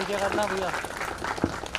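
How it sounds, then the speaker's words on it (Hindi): Brief applause at a religion-and-literature inauguration ceremony, an audience clapping to welcome a guest while a voice speaks over it. "तालियों से हम स्वागत करें"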